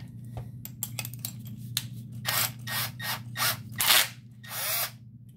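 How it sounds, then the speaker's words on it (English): A handheld drill spins a leather drive punch for sharpening, with short whirring bursts starting and stopping, several longer runs, over a steady low motor hum, close and fairly loud. "So, my trick is I take a drill,"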